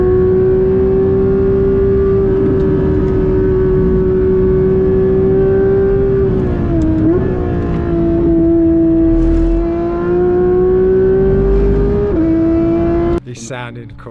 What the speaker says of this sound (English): best sounding car out here, mate. Actual cup car, that thing.